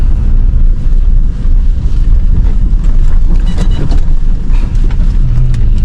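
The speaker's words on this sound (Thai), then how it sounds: "ลมใหญ่" Strong wind blowing outdoors at daybreak, a very loud, unbroken roar with heavy low-end buffeting across the microphone and no break throughout.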